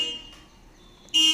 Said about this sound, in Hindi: सॉरी, क्या हॉर्न वगैरह आ जाती है।